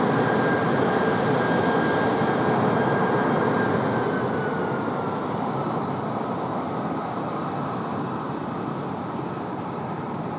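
An American Heavy jet takes off from runway 23 right at Raleigh-Durham International, a loud, steady broadband engine roar that stays close and strong throughout, with whining tones that slowly fall in pitch.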